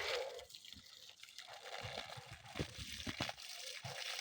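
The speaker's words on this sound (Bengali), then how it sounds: "দেখুন এক ইঞ্চি পাইপের মুখ বেয়ে একদম পানি বেরতেছে গল গল করে একদম ভরপুর পানি" Water gushes from the mouth of a one-inch hose fed by a bilge pump, used to water garden plants: a continuous gurgling, splashing flow close by with irregular bubbly surges.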